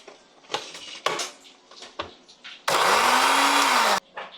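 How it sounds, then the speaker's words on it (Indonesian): A kitchen blender grinds squid with chili, cumin, salt, seasoning and a little oil in one loud, steady burst lasting over a second, its motor pitch rising slightly, after some clattering handling noises. "Lalu di blender."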